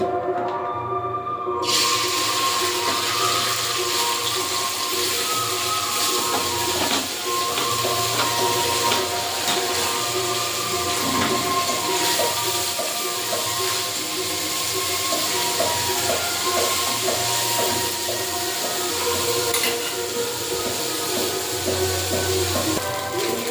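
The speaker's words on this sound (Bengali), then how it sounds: "তেল দিয়ে চুনা মাছগুলো ভেজে নেব" Small chuna (mourala) fish fry in hot oil in a kadai. A steady, dense sizzle hisses without pause from start to end, close and fairly loud.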